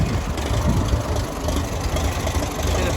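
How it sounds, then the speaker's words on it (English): A grey Ferguson TE20 tractor engine runs steadily with its PTO engaged, a close, rough, continuous rumble and clatter with no break. "See the PTO's working"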